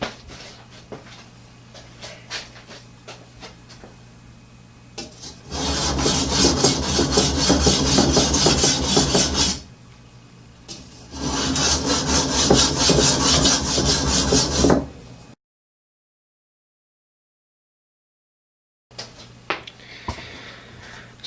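Nagamaki blade polished by hand, rubbed back and forth over one surface at a time: two long stretches of steady, close scraping strokes, separated by brief pauses and followed by silence and faint handling.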